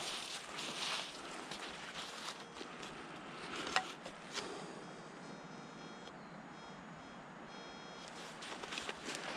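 A metal detector sweeps for coins along a forest trail, giving a few short electronic beep signals over steady outdoor background noise, with no talking.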